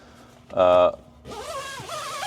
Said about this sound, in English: I think I just did both zippers at once.